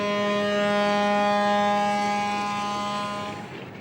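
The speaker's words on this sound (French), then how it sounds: "Sur les quais, le Bou El Mogdad signale son départ" The Bou El Mogdad riverboat at the quay in Saint-Louis, Senegal, sounds its departure siren, one long steady loud blast that holds for over three seconds and then fades away.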